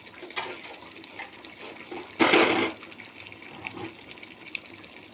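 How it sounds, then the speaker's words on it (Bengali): Water gushes into a cooking pot of chicken and papaya curry in a home kitchen, a short loud pour of about half a second amid quieter kitchen clatter. "ঝোলের পানি দিব"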